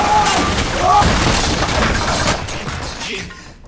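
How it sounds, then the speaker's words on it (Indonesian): Anime machine-gun fire rattles against a ship, a dense, loud burst of rapid impacts and booms with shattering crashes, mixed under music and effects before fading out. "di dalam Kenshin pun disambut dengan machine gun."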